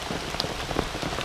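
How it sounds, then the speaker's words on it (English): Torrential rain falls almost straight down onto an open shelter in the bush, making a dense, steady patter with a few louder drops striking close by and no voices. "Sometimes there is, but generally it's straight down, just torrential rain."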